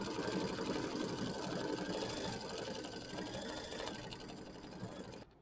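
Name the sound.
embroidery sewing machine stitching lettering in blue thread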